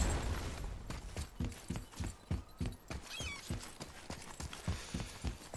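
Rhythmic horse hoofbeats from the video game God of War clop steadily at a brisk walking pace, close and distinct, with faint clinking gear and a brief whinny-like sound midway.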